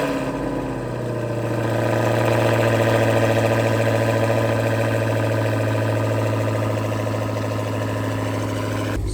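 A Dodge Hellcat Redeye engine idles through a titanium valved catless exhaust, a deep, steady rumble with a throaty drone that swells slightly after the first couple of seconds and then holds, close and loud, no voices.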